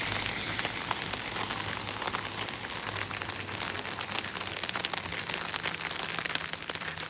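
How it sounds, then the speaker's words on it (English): Rain falls steadily on a walk, a soft, even patter with scattered crisp drops tapping close by, fairly faint and with no voices. "Rain's picking up now."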